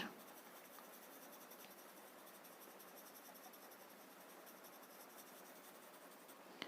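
A chalk pencil adding highlights to a Zentangle tile, a faint, close, continuous scratchy rubbing of the pencil on the tile surface in a quiet room.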